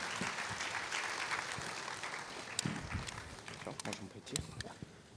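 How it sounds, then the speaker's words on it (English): Steady clapping from a conference audience after a panel discussion at Blockchain Life 2024 in Dubai fills the room, a dense patter of many hands with a few sharper claps standing out. "let's applaud for our speaker"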